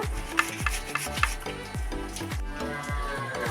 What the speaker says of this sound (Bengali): আমি এবার সিলেতে বেটে নিচ্ছি।